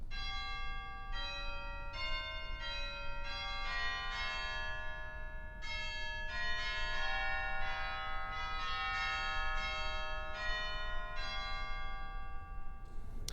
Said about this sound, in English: Don't want to give short shrift to it because we forget sometimes the chimes, which are available here in the Great